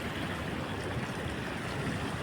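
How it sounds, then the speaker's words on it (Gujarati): Water of a stream rushes steadily along the Kodai river near Mandvi in Kutch, a dense, continuous, close-up wash without pauses. "જો આ પાણી વહે છે ઝરણાના"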